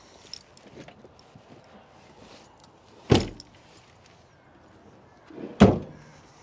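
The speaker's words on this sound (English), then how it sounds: "rear loading door." Two heavy slams of a van's rear loading door, well spaced a few seconds apart, loud and close against a quiet outdoor background.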